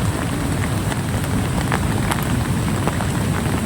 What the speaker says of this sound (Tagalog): Ang ulan talaga.